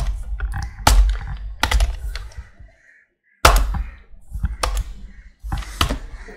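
Fast typing on a computer keyboard comes in bursts of clattering keystrokes, close and fairly loud, with brief silent gaps between the runs.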